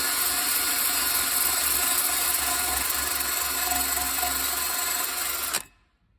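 A grinder dresses the back of a weld on a steel funnel for a Mazzer Super Jolly coffee grinder, a loud, continuous harsh grinding hiss that runs steadily and then stops abruptly near the end.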